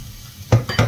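Onion and garlic hit hot oil in a pan for Chinese fried rice, giving a couple of quick sizzling bursts along with utensil scrapes and clinks against the pan, close and fairly loud.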